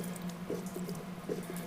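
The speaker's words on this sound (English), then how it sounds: "see almost straight fuel coming out of there" Diesel fuel runs out of an open petcock on a John Deere 4230 tractor during a lift pump replacement, a faint, steady trickle with soft irregular drips and splashes against quiet background noise.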